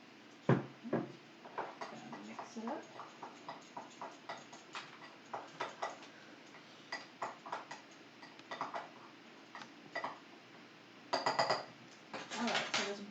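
Utensil stirring a dandelion wine mixture of grains, cloves and ginger in a pot, giving irregular light clinks and taps against the container over several seconds, fairly faint and close, with a brief burst of rapid clinking near the end.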